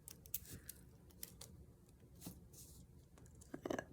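Scissors snipping through a 12x12 sheet of paper, a series of short crisp cuts spaced irregularly, quiet and close, with a quick cluster of snips at the end.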